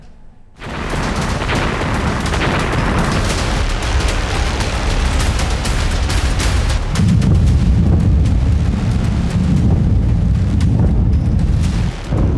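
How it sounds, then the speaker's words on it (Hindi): Continuous heavy rumbling blasts with sharp cracks, loud and sustained, growing deeper and more intense partway through, like explosions from Iranian missile strikes on Israeli cities such as Tel Aviv and Haifa. "ईरान का विस्फोटक हमला इजराइल दहला।"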